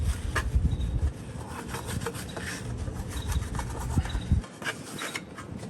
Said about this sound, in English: We are ready for some sanding.